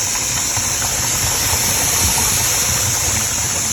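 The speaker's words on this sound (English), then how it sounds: "And our steam has been venting." Pressure canner loaded with potatoes venting steam, a loud, continuous high hiss held steady with a low background rumble underneath.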